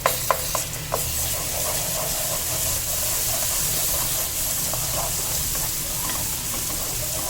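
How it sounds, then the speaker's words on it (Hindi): Ginger garlic paste fries in a pan with a dense, continuous hiss and crackle throughout, and a few light utensil clicks at the very beginning. "अब इसको भून लेंगे थोड़ा।"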